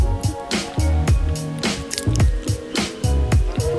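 Wet, squishy sloshing from a spoon stirring thick coffee and water in an AeroPress, in quick rhythmic strokes close by.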